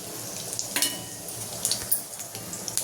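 A bay leaf, peppercorns and cumin sizzle in hot oil: a steady, close frying hiss with small crackles and pops scattered through it, and no talk.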